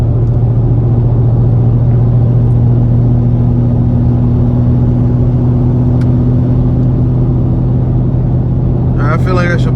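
Car engine running at a steady, loud idle-like rumble with a deep constant hum, a brief higher rev flare near the end, while people talk over it.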